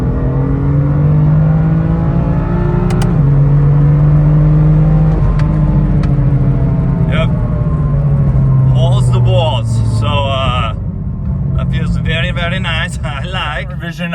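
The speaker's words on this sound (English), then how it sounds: "And revving, just pulling hard through the whole RPM range." A tuned BMW M3/M4 engine pulls hard through its rev range under full acceleration, loud rising and falling engine tones with shifts, heard from inside the car with someone talking over it.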